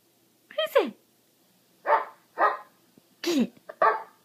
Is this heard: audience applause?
no